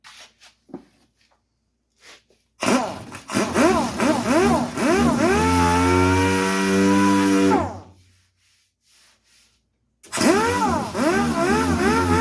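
A power sander works a coated part in two bursts, its whirring pitch rising and wavering as it bears down, with quiet pauses before and between the runs.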